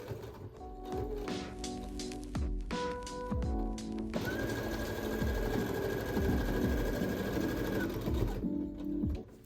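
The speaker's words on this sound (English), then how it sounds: "then we are going to stitch along that opening to close the strap loop" A sewing machine stitches a tote bag strap loop closed, its motor whirring loud and close with a rhythmic mechanical clatter, running in short spurts and then a longer continuous stretch with a steady high whine, with no talk.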